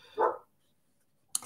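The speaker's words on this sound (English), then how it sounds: "My dogs keep running outside and then back in through the dog door looking for what Coda is barking at" A dog barks once indoors, fairly close and brief, followed by a pause and a sharp clicking rattle like a flap or door.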